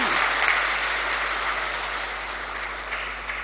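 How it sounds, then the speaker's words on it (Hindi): Audience applause at a Hindi spiritual talk, a dense steady clapping from a crowd sustained for several seconds, fairly loud and continuous with no voices on top. "राइट, वेरी गुड, ताली तो बजाओ।"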